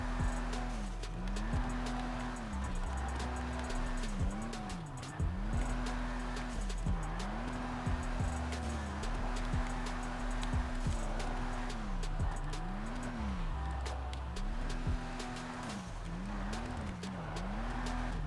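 A Vulcar Nebula Turbo car drifts in a video game, its engine rising and falling in repeated swells as it revs through turns, with tire noise underneath, steady and continuous.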